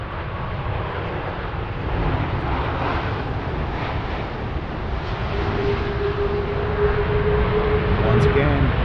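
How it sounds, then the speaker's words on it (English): An Airbus A330 lands on runway 25R at a freezing Frankfurt airport, a steady broad jet roar held close throughout with a rising whine toward the end and voices speaking over it. "Once again, the A330 does what it does best, giving butter landings."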